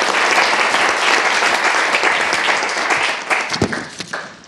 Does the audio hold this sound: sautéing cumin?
no